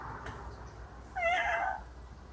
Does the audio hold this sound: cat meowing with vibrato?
yes